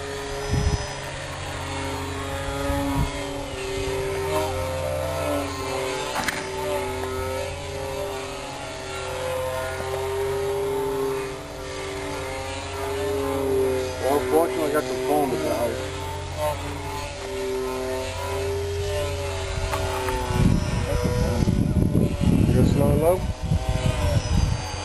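Radio-controlled model planes fly in dart combat, their small engines droning steadily at a distance for the whole stretch, with people talking over them and a louder, rougher burst near the end.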